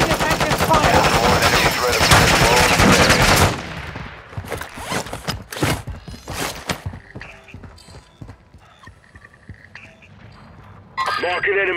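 Gunfire in Call of Duty Warzone on Ashika Island rings out in a dense, loud automatic burst for about three seconds, then scattered single shots and short bursts crack on, with radio voice lines heard in the mix.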